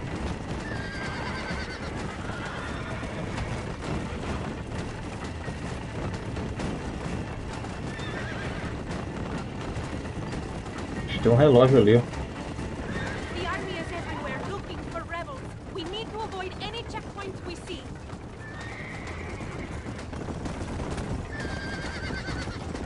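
Horses in the Western video game Red Dead Redemption neigh and whinny over a steady clip-clop of hooves, with one loud whinny standing out near the middle while a voice talks casually throughout.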